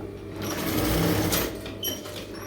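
Sewing machine running a continuous dummy stitch on a blouse neckline, a steady close whirring hum that swells and eases slightly, with no voices.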